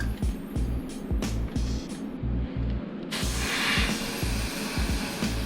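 Paint sprayed onto Warhammer 40K miniature bases from a can that is clogging a little: short sputtering bursts give way to a strong, steady close hiss for the last couple of seconds, with a low hum underneath.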